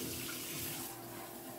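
Steady tap water runs as jars are rinsed at a sink, a continuous close hiss and splash with no talking.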